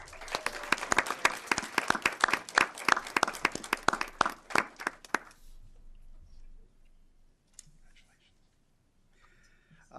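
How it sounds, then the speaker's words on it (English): Applause at a school board meeting: a brief burst of scattered clapping from a modest group indoors fades out after about five seconds, leaving near silence with faint shuffling and a soft voice. "Please give her a round of applause."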